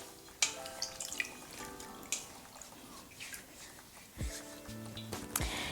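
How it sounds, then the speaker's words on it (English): Hands are rinsed under running tap water at a sink, with splashes, drips and wet rubbing in uneven bursts close to the listener, plus a few clinks of objects near the basin. "I'm gonna start off with some water and rinse my hands."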